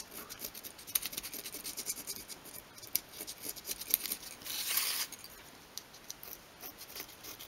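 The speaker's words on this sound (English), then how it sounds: "you're just making a bit of a groove where the pencil line is." A craft knife scores a shallow groove along a pencil line in wood for a 1/12 scale coffee table moulding, giving close, dry scratchy scraping strokes with a louder rasping pass midway and light ticks around it.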